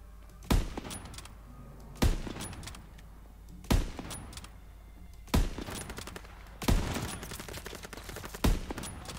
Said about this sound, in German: Kenny, knall sie ab.